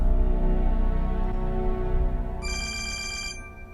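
A telephone rings in a drama scene with a bright, repeated electronic ring that starts partway through and lasts about a second over a low steady hum, with no one speaking.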